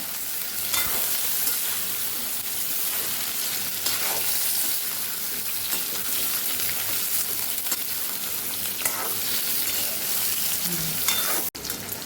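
Eggplant pieces fry in oil in a pan until browned, giving a steady, close crackling sizzle throughout with a few stirring scrapes and a brief knock near the end.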